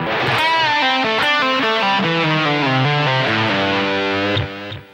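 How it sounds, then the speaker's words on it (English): A distorted electric guitar plays a short lead phrase from the A blues scale in a rock song, with bends and sustained notes, loud and solo, fading out at the end. "we're going to have a little lead phrase that ends it off."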